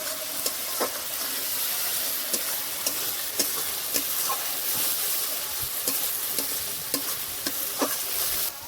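Chopped banana flower with salt and turmeric fries in a pan, giving a steady close sizzle broken by repeated scraping strokes of a stirring spoon.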